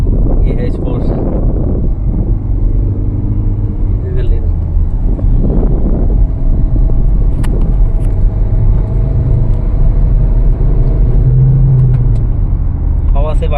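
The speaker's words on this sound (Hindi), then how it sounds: "थोड़ा स्पोर्ट मोड पर चला के देखते हैं क्या रिस्पॉन्स है।" Hyundai Tucson SUV driven in sport mode, a steady low engine and road rumble with wind noise inside the cabin, under someone talking throughout.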